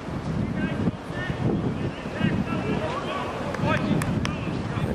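Gusty wind buffets the microphone in uneven rumbling bursts at a junior football match in Newtongrange, Scotland, with faint distant voices and outdoor noise underneath.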